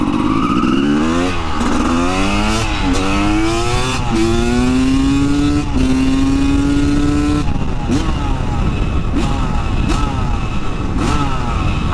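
A CR250 two-stroke supermoto motorcycle engine revs up and down repeatedly, pitch sweeping through several climbs before settling into a steady high hold, then dropping to a crackly idle with sharp blips; loud and close.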